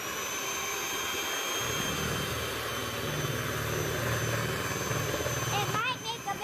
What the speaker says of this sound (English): we're going to try the electric mixer this time